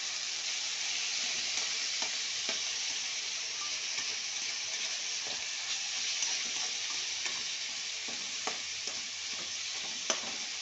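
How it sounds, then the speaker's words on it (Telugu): Ivy gourd (dondakaya) chutney sizzles in a pan while a utensil stirs it, with repeated scraping strokes over a constant frying hiss. "ఇది కలుపుతూ ఉండాలి, లేకపోతే అడుగు మాడిద్ది"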